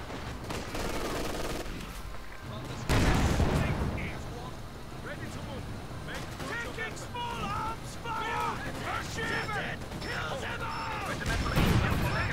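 Mines detonating in Company of Heroes 2, a burst of heavy booms and crackling blasts against constant battle noise, with players talking excitedly over the chaos.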